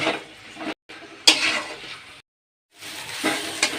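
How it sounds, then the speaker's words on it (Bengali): Okra is stir-fried in a pan with mustard paste, giving scraping, sizzling stirring bursts separated by brief silent pauses. "এভাবে আমি ঢেঁড়সগুলো কষিয়ে নেব"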